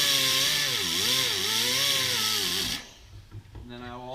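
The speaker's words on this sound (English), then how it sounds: "I use the same pad, Raylock wheel. Gets all the rust off." Raylock abrasive wheel pad on a power tool scouring rust off a truck's front brake hub, a loud grinding whine whose pitch dips and rises with the load, then cuts off into quiet with a brief spin-up near the end.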